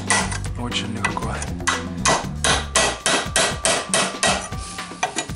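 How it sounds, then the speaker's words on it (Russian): A hammer drives a chisel to cut aluminium rivets from a UAZ 469 brake pad clamped in a vise, with a steady run of loud, close metallic blows, about two per second. "и срубаем клепки. Клепки алюминиевые"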